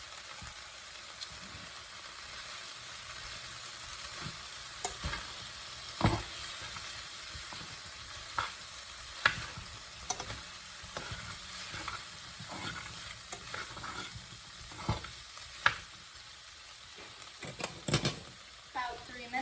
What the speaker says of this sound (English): The garlic doesn't really need to brown, it's just there to freshen up all the flavors that we have with the sausage and the peppers and onions